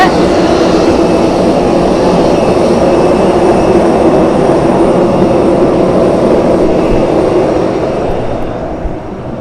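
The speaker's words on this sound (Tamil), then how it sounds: "இப்போ நாங்கள் வந்து உட்காந்துருக்கோம் ஃப்ளைட்டில்." Steady, loud engine drone inside an airliner cabin after boarding, a broad constant roar that holds evenly and eases slightly at the end.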